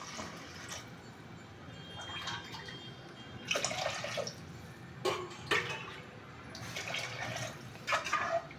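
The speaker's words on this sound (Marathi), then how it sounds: "आता आपण ह्याच्यामध्ये पाणी घालूया" Water is poured into rice in a cooking pot for a biryani, heard as intermittent splashing gushes and trickles at close range, with quiet gaps between pours.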